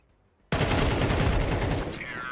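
Gunfire in a competitive online shooter match erupts suddenly after brief quiet, a dense rapid burst of shots that continues loudly to the end, with faint voices underneath.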